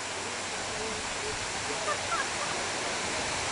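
Gravity-fed fountains in Russia, supplied with water piped from a marsh about 20 miles away, pour and splash in a dense, steady rushing wash that stays even and unbroken throughout.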